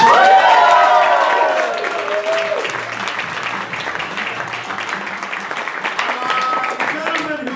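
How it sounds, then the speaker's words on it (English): An audience applauds an assistant director after an introduction, sustained clapping from a crowd with a few cheers, loud at first and then settling to a steady patter while a voice talks over it early on. "Give him a round of applause."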